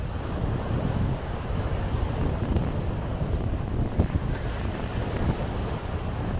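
Wind blowing across a local island in the Maldives after a storm, a steady loud rush with buffeting on the microphone and a surf-like roar underneath, continuous throughout.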